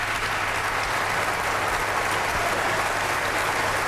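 A large audience applauds a panel at a town hall event in a church, a dense, steady roar of clapping sustained throughout with no break.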